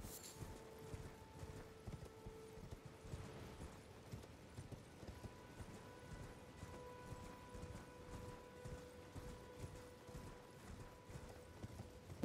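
A horse gallops in Elden Ring, its rhythmic hoof clip-clops steady and fairly faint over a continuous game music bed, with no break in the pounding stride.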